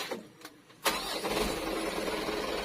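A Mitsubishi Canter truck's diesel engine cranks briefly after a few faint clicks, then catches and settles into a steady, close idle.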